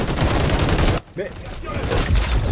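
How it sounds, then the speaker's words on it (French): Sustained rapid gunfire in the video game XDefiant as a 60-round magazine is emptied, loud and continuous with a brief gap in the middle before the shooting resumes. "J'ai vidé le chargeur, 60 balles."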